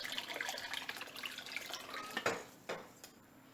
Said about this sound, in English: I'm going to go ahead and pour more water in.